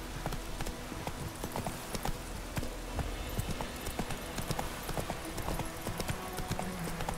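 Hooves of Roach, a horse in The Witcher video game, clip-clop in a steady rhythm at moderate volume, with faint game ambience beneath and no talking.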